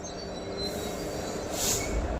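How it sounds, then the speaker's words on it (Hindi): A special train overtakes on the parallel track, a continuous loud rumble and rattle of wheels on rails with a brief high squeal midway, heard from inside a moving Indian intercity express. "पैरेलल में ओवरटेक मार गई स्पेशल ट्रेन।"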